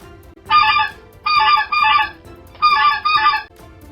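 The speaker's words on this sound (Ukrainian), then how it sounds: "На бабусиному подвір'ї також мешкають гуси, гусаки з гускою та маленьким гусенятком." Domestic geese honk loudly nearby in a farmyard in short bursts, a single call followed by two quick pairs of harsh, nasal honks.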